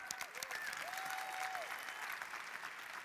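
An audience claps steadily in a dense burst of applause, with a few faint whistles rising above the clapping.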